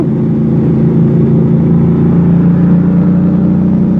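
A Keeway Dorado 250cc V-twin motorcycle engine runs loud and close with a steady, even drone that holds throughout, without distinct rises in pitch.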